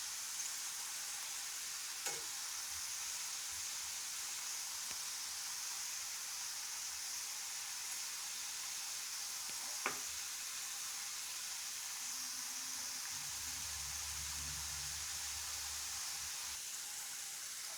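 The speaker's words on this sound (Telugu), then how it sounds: "లో ఫ్లేమ్లో పెట్టుకుని ఫ్రై చేసుకోండి." Potato french fries frying in oil over a low flame, a soft, steady hiss of sizzling with a couple of faint clicks and a low hum toward the end.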